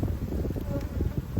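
Honeybees buzzing close by during a hive inspection, a dense, steady hum mixed with gusts of wind buffeting the microphone.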